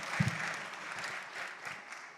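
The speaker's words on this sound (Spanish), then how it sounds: "merece un aplauso." Audience applause at an economic conference on Latin America, a steady patter of clapping held at an even level for a couple of seconds with no speech over it.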